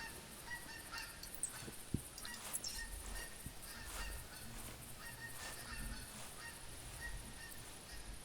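A flock of Canada geese honks repeatedly as it passes overhead, the calls faint and distant against a quiet outdoor background.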